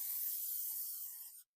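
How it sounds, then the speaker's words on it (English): Cooking spray hisses onto a baking pan in one steady, close, airy burst lasting over a second, then cuts off abruptly. "So then we'll spray the pan"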